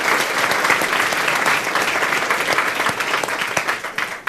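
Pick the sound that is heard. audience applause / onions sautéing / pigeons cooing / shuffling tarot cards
audience applause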